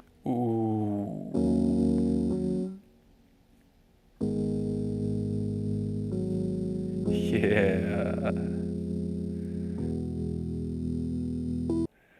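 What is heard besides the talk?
Zoom Sampletrak sampler playback on lo-fi setting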